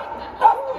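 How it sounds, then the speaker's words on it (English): A dog gives a single short bark, close by and brief. "Oh, started barking now."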